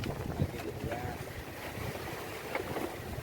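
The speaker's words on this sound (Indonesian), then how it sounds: "anginnya masih gede sama ombaknya" Strong wind and waves at sea during a morning fishing trip off Tanjung Kait, heard as a steady, blustery rush of wind buffeting the microphone over a washing sea, with faint voices underneath.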